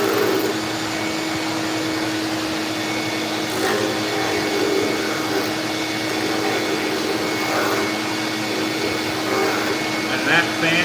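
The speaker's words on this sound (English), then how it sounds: "And that fan is just rendering that shop vac absolutely." A shop vac runs steadily in a workshop with a fan blowing nearby, a continuous even whine and rush of air holding at one level throughout with no pauses.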